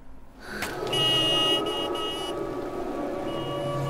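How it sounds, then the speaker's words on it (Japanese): A car horn honks in a sustained blast over a busy, noisy background in the horror video game Siren, then a quieter tone lingers as ambient sound continues. "どうしてもまずはクラクションを鳴らす。"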